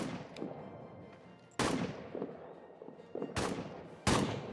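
Rifle and artillery fire in the World War I trench strategy game All Quiet in the Trenches: three sharp, loud blasts with short decays ring out over a faint, continuous distant crackle of battle.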